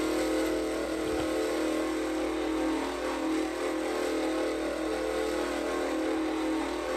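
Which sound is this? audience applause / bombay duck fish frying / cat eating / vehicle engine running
vehicle engine running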